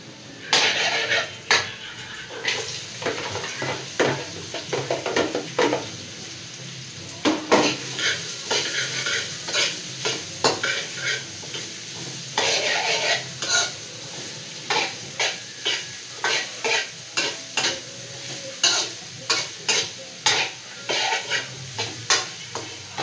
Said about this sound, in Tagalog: maitim yung kawali natin eh. Tapos tigasan natin yung carrots kasi medyo matigas po.